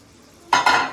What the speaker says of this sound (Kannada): ಈಗ ಒಂದು 5 ನಿಮಿಷ ಕುಕ್ಕರಲ್ಲಿ ಚೆನ್ನಾಗಿ ಫ್ರೈ ಆಗಲಿ.